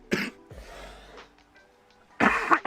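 A man coughs hard twice, with a burst near the start and a longer harsh fit near the end, and quiet breathing in between, close to the microphone.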